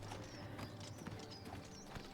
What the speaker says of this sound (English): Wild paint horse.